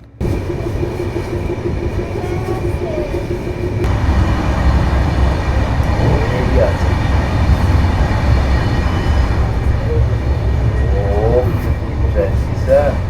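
A train running along the Bangalore to Mangalore route makes a steady low rumble throughout, growing louder partway through, with faint voices and chatter mixed in.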